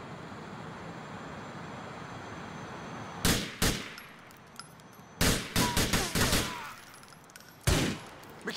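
Gunfire rings out in Grand Theft Auto IV over a low background hum, with several sharp bursts of rapid shots, some isolated cracks and a few clustered volleys spaced across the scene.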